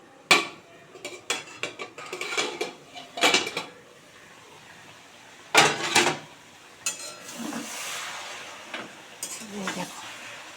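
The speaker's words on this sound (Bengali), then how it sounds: "লাউ শাকটা দিয়ে একটু নাড়াচাড়া করে দিই" Bottle gourd greens being stirred in a pan for a prawn and greens dish: bursts of scraping and clattering utensil strokes against the pan, separated by quieter stretches of soft sizzling, close and without speech.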